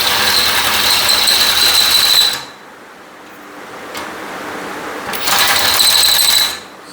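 Countersinking a screw hole in a thin metal house-number plate with a power tool: two loud, steady whirring-grinding bursts of about two seconds each, separated by a quieter gap.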